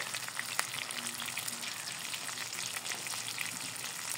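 Spice pastes of cumin, garlic and ginger with turmeric, chilli powder and salt frying together in a pan, a soft, even crackling sizzle with faint stirring, quiet and continuous, no voices.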